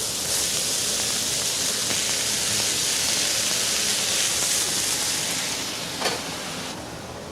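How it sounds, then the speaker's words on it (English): Fresh mushrooms sauté in butter in a pan, giving a loud, steady hiss with faint crackle that runs throughout and eases slightly near the end. "The fresh mushrooms go into a sauté pan with some butter."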